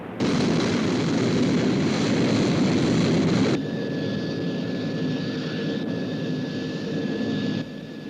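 Sky 1 aircraft flying, a loud, steady roaring engine rush that drops to a lower, quieter drone partway through, with a faint high whine over it, continuous throughout.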